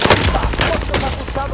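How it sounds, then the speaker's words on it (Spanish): Rapid bursts of gunfire in a video game crackle loudly and up close, overlapping with an excited voice throughout the short burst. "¡Mierda, me disparan!"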